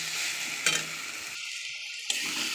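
Onion, ginger and garlic paste fry with tomato and spices, giving a close steady sizzle with a couple of sharp clacks and a brief muffled break midway.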